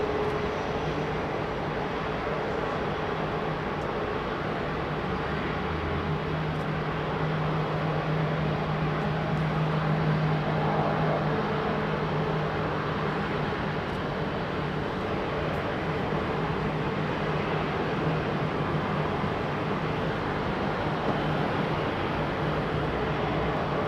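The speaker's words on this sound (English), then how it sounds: "the sights and sounds of London Heathrow" Steady airport ambience at London Heathrow: a continuous low drone of aircraft engines and distant jet rumble, unchanging and moderately loud, without speech.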